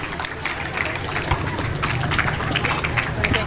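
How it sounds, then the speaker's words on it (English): An audience at a school speech competition prize-giving claps loudly, dense rapid applause that runs throughout, with talk mixed in. "Do loud clap for Riaz Haider."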